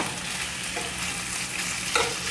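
Steak and homemade potatoes frying in a pan over high heat, a steady broadband sizzle held throughout with a couple of faint clinks of stirring, alone.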